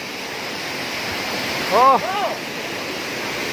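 A tall waterfall, Curug Air Bagus in North Bengkulu, roars as a steady, loud wash of falling water, with one short spoken exclamation partway through.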